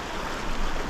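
Waterfall and rushing mountain stream water, a dense, steady broadband roar filling the moment with no gaps, close and loud.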